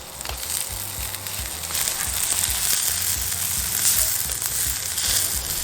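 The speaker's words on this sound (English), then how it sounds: "Now the onions are done. We're going to take them off the fire" Onions frying in a cast iron pan over an open campfire, a steady close sizzle and crackle with low rumbling thumps running beneath it throughout.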